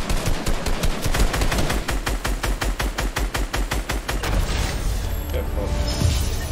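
Rapid SMG fire in the Fortnite video game rattles off in a long, evenly spaced burst of sharp shots at close range, then stops and leaves quieter game sounds behind.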